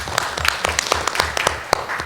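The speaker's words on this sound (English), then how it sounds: "Everyone clap it up for" Audience at a community leadership event clapping to welcome a speaker, with scattered, uneven claps from a modest crowd rising and falling over a couple of seconds.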